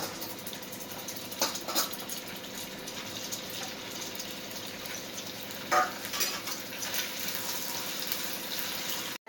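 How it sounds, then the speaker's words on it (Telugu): Chicken, first boiled with salt and turmeric, deep frying in oil for a village-style tomato chicken pickle, a steady close crackling sizzle with a few louder pops. "తర్వాత చికెన్ని ఉప్పు పసుపు వేసి ఉడకబెట్టుకునేది డీప్ ఫ్రై చేసుకోవాలి"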